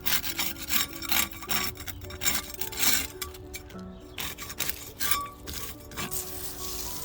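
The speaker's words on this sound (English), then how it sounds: "Scrape off some old paint that are already peeling." Old peeling paint is scraped off a wall in rough, repeated rasping strokes, close and fairly quiet, with uneven pauses between passes.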